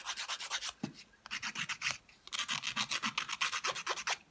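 A nail file rasps back and forth across fingernails in quick, regular strokes, close and fairly quiet, with a brief pause partway through before the rhythmic filing resumes.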